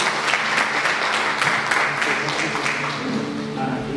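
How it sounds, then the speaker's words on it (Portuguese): A standing church congregation at a Sunday morning service applauds together, a dense, steady wash of clapping with a voice faintly audible beneath it. "Vou pedir para a igreja se colocar de pé e aplaudir o Senhor"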